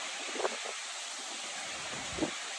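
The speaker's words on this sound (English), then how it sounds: "The wind's picking up." Steady wind gusts outside a flimsy house in a Mindanao province, a constant broad whoosh with a couple of faint brief knocks, no voices.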